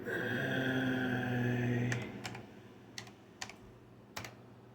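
Keys clatter on an Amstrad PPC-640 laptop keyboard: a steady electronic hum fills the first two seconds, then five or six separate, sharp keystrokes follow with uneven pauses between them, close and moderately loud.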